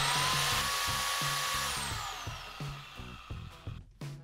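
A Portland 1.5 horsepower electric pole saw winds down from a high whine while a rhythmic music track plays underneath; the motor fades out toward the end.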